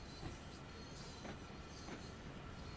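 Long freight train in the Train Sim World 2 game, led by an F7 locomotive, rolling along at low volume with a soft, continuous rumble and faint rhythmic wheel clatter.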